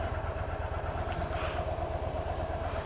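A Harley-Davidson motorcycle idles with a steady, loping low-pitched engine pulse at close range while backing out of a Home Depot parking space, with no talk.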